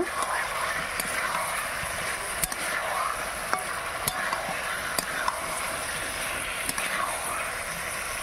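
Chicken and potatoes stir-fried with salt in a pan over a wood fire: a steady, close sizzle with regular clacks of a spatula scraping the pan.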